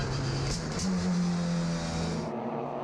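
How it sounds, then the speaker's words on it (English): A Sasol BMW race car slows on the Kyalami Grand Prix Circuit during a 2018 GTC race, its engine a steady, fairly close drone that eases off without sharp revs. "now Bonafede is limping and slowing in the Sasol BMW."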